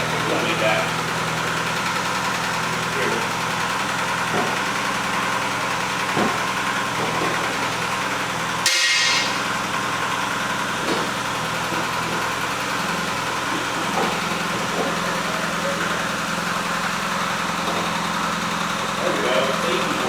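A 1973 Opel Ascona, revived after sitting abandoned for years, idles steadily with a mid-pitched engine drone and light vibration, running continuously with a brief sharp clunk partway through.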